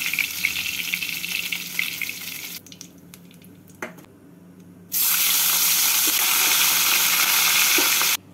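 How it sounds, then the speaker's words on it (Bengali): Khayra fish fry in hot oil in a home kitchen, with a crackling sizzle early on, then a quieter gap with a few clinks, then a steady, louder hiss lasting about three seconds. "এইভাবে বাকি মাছগুলোকেও ভেজে নেব।"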